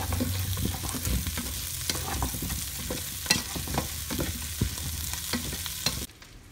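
Brussels sprouts fry in a pan with a constant sizzle, broken by scattered sharp pops and crackles, close and fairly quiet, stopping abruptly at the end.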